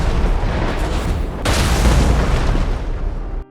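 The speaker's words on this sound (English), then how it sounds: "Suddenly, a meteorite impacted with the ground, causing a massive shockwave, destroying the environment." A meteorite slams into the ground in BeamNG Drive, a sustained, loud roaring blast that surges into a heavier rumbling shockwave midway before cutting off abruptly, with no voices.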